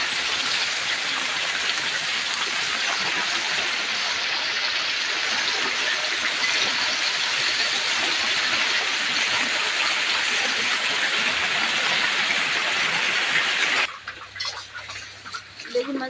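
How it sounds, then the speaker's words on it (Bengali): Heavy rain pours down during monsoon cooking of khichuri with fried brinjal, a loud, dense, unbroken roar of falling water that drops away abruptly near the end, with no talking. "আর যদি বৃষ্টি হচ্ছে প্রচণ্ড"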